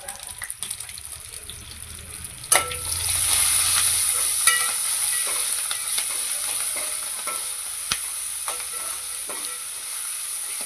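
Food sizzles and fries in a pan while being stirred, a loud steady sizzle that jumps in after a brief quieter start, with scraping stirs and occasional clinks throughout.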